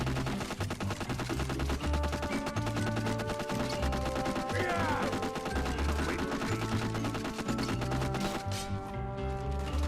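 Rapid gunfire from modded weapons in the video game Skyrim, a dense, continuous burst of shots layered over game music, loud and sustained throughout.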